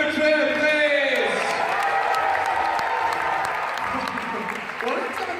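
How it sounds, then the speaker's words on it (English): At a live robot combat event, a large audience applauds and cheers for a driver walking out. The clapping is loud, dense and sustained, with whoops mixed in and an announcer's voice over it. "give him a cheer, please!"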